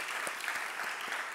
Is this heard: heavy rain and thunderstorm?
no